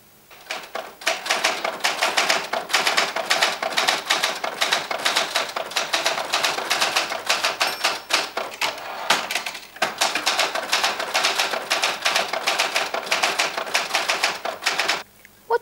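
A typewriter clatters with rapid, uneven keystrokes and carriage clicks, loud and close, in two long bursts split by a short pause, with no steady beat.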